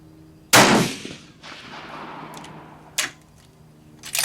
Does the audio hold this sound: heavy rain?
no